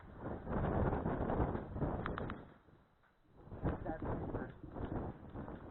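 Gusty outdoor wind buffeting the microphone in strong, uneven surges that ease briefly midway, with faint clicks and distant sounds underneath.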